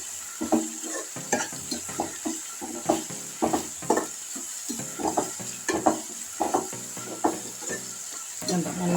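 Fresh curry leaves with mint and coriander sautéing in hot oil in a pan, a steady close sizzle broken by repeated scraping stirs of a spoon against the metal, with no voices.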